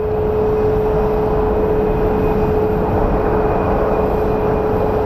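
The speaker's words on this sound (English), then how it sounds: "And then it looks like we have one of our SkyWest CRJs departing." A SkyWest CRJ regional jet departs from Phoenix Sky Harbor with a loud, steady engine roar and a sustained whine that holds evenly throughout.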